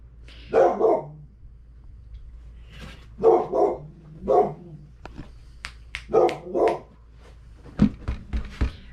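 A deaf dog gives several sharp barks in separate bursts of one or two, close by in a quiet room, with a few softer yips and clicks between them.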